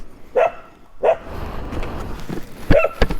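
A puppy barks at a passing motorcycle on a road: three sharp, close barks spaced a second or more apart, with a low road and engine rumble underneath.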